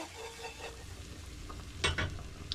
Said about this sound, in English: I got my giant whisk, but still a whisk.